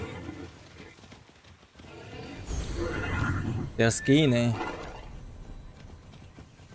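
Golden horses in Immortals Fenyx Rising, the video game, give a clear whinnying neigh over clip-clopping hooves, while a voice talks over the game sounds.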